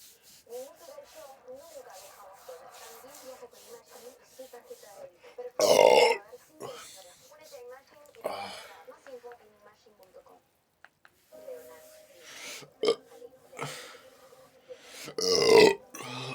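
Several loud, rasping burps from a person after drinking 7up, coming in separate bursts between quieter stretches, with people talking in Spanish around them.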